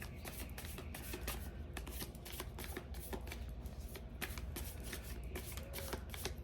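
Playing cards shuffled during a tarot-style card reading, a steady run of crisp riffling and flicking snaps repeating at close range and moderate loudness, with no talking.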